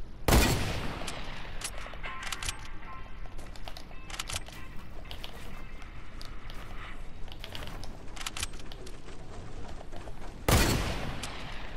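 Rapid gunfire bursts in a shooter video game, sharp broadband cracks clustered near the start and again near the end, with scattered quieter shots and clicks between, no talking.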